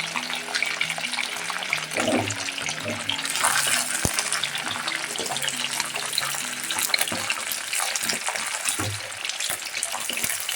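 Fish fillets frying in hot oil in a pan for a crispy fish fry give a steady, dense sizzle and crackle throughout, with occasional louder pops and bubbling bursts, fairly close and continuous with no talking.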